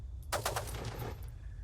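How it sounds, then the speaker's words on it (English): Nieuport 17 machine guns firing in Microsoft Flight Simulator, a short rapid burst of several sharp cracks followed by a ringing tail, fairly quiet overall. "And then we have the ability to fire the guns."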